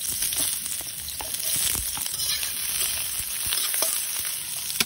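Onion, garlic and chicken sauté in a pan for kaldereta, a close, steady frying sizzle with scattered crackles and stirring scrapes, no one speaking.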